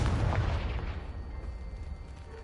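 Confringo blasting spell cast at a pile of debris in the video game Hogwarts Legacy, a single deep booming explosion that fades out with a rumbling tail, loud and alone.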